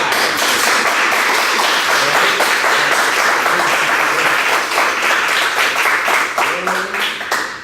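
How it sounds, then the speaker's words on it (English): An audience at a black belt candlelight ceremony gives a burst of sharp, crisp clapping. The applause is loud and dense and thins toward the end. "Pity claps. Karate claps."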